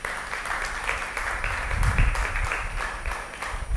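A congregation at a Shavuot religious service breaks into applause, a few seconds of lively, fairly close clapping with uneven bursts and a low rumble midway.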